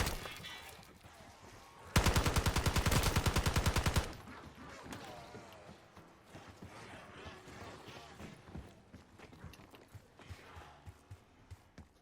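Ray gun fire in the Black Ops 6 video game: a fast, loud burst of rapid repeated shots lasting about two seconds, followed by quieter scattered game sounds and gunfire in the background.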